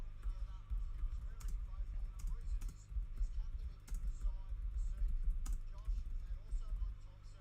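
Typing on a computer keyboard, scattered sharp key clicks at an uneven pace, faint beneath a loud low hum and rumble, with someone talking over it.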